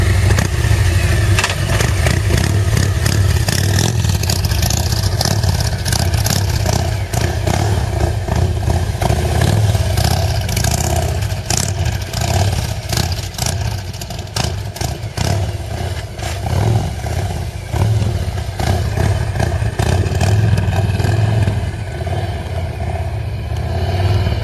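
A Harley-Davidson motorcycle fitted with a hydraulic clutch runs steadily with a loud, close, rumbling engine note. There is slight variation in throttle and some mechanical clatter, and no talking throughout.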